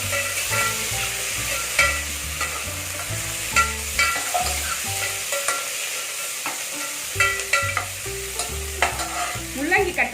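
Tomatoes and onions frying in oil in a pan for radish sambar, a close, steady sizzle broken by repeated stirring scrapes and clanks of a spoon against the pan, with no voices.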